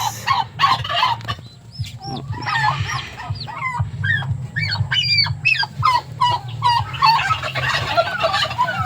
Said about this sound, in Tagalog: Namisa naman yung ating mga pabo. 8 piraso.